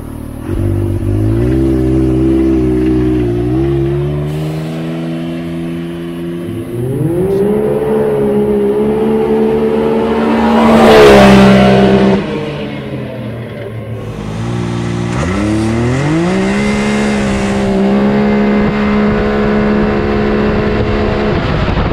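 A big-turbo car with a Treal exhaust accelerates hard from 0 to 60, loud and close, its exhaust note climbing through several gear pulls with brief dips between shifts.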